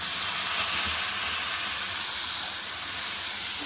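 Coarsely grated, peeled radish goes into hot oil with turmeric, producing a loud, continuous, even sizzling hiss close by with no voices.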